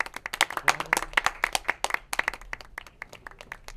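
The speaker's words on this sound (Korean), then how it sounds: "다 같이 박수." A small group of colleagues claps together at an office year-end party, with sharp individual hand claps close by in an uneven, lively patter that thins out toward the end.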